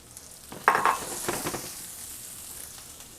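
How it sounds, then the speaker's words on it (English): Chunks of scallion with ginger, garlic, onion and shallot hit a hot pan, giving a sharp initial crackle that settles into a steady, close hiss of frying with a few stirring scrapes. "Then what we're gonna do is we're gonna take these nice chunks of scallions. I want these to fry a little bit."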